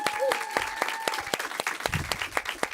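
A small audience at an album Q&A claps in a brief round of applause, sharp separate claps over a steady patter, with a faint tonal whistle or feedback tone lingering underneath.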